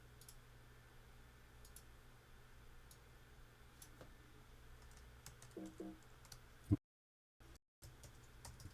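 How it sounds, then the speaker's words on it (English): Quiet typing on a computer keyboard: a faint, irregular patter of key clicks over a low room hum, with a brief dropout to silence near the end. "Typing in the wrong thing."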